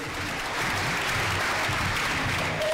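A children's event audience in Kenya applauds a child journalist, a steady, moderately loud roar of clapping and crowd noise that continues without a break, with a low murmur of voices underneath.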